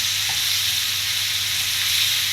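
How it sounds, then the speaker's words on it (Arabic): Chicken thighs fry steadily in a hot pan, a dense even sizzle that runs without a break, loud and close, with a faint low hum beneath and no voices. "كل الفراخ بتاعتي هقلبها على نفس الطريقه كده"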